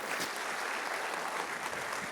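A church congregation bursts into applause during a Spanish-language sermon, a steady, dense wash of many hands clapping at once, sustained and fairly close for the whole stretch.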